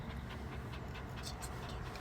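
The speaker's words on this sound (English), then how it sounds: "And breathing all your hot dog breath." Rapid, steady panting from a dog close by, breathy and continuous for about two seconds with no talk over it.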